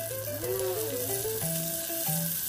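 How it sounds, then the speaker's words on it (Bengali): Pointed gourds (potol) frying in hot oil for a Bengali curd dish, a close, steady sizzle and crackle that continues for a couple of seconds. "এবারে একে একে সব পটলগুলিকে ভেজে নিচ্ছি।"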